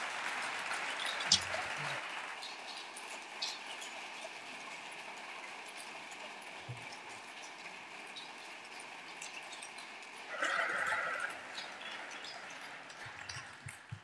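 A flamenco concert audience applauds as a soft, distant, continuous wash of clapping, swelling briefly near the end, with no speech over it.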